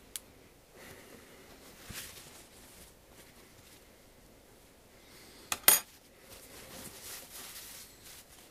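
A utensil clinks and scrapes against a glass or metal container while stirring a zinc sulfide solution, mostly quiet with a couple of sharper taps near the end.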